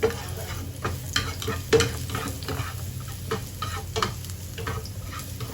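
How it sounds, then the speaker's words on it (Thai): Chopped garlic sizzles in hot oil in a wok, with a steady crackling fry broken by repeated scraping stirs of the spatula. "ผัดกระเทียมเจียวให้หอมนะคะ"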